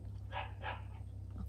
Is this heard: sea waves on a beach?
no